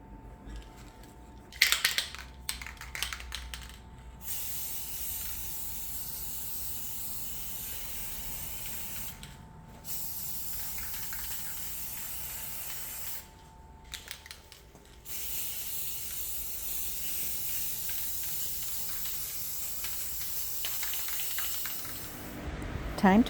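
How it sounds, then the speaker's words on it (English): Gloss clear coat sprayed in a series of hissing bursts over a wooden box, with short pauses between passes and longer continuous sprays toward the end, close and fairly loud. "I'm finishing off with a gloss clear coat."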